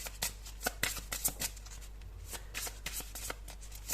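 Tarot cards being shuffled by hand close up: rapid, repeated papery riffles and flicks in quick bursts over about four seconds, with no voices.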